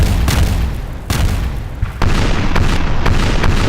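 Naval cannons fire during a sea battle in Napoleon: Total War, loud booms repeating every half second to a second over a constant roar of battle noise.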